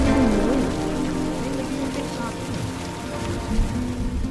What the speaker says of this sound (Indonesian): Pada saat di perjalanan hujan turun